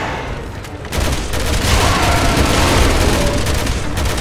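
Rapid gunfire during a boss fight in Resident Evil 6, a dense, continuous barrage of loud shots and impacts that kicks in after a brief quieter opening and carries on steadily to the end.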